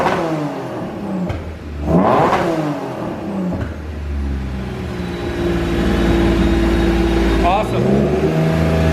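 Honda NSX engine revving in short bursts, rising and falling as the throttle is blipped, then holding a steady, throaty idle-to-mid hum close by, with talking over it.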